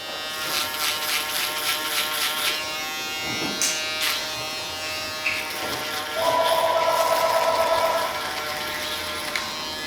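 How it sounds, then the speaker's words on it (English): An electric shaver buzzes steadily up close on a head, its pitch shifting as it moves, with a brief louder, higher whine near the end. "a little bit of that shaver before we wrap this up"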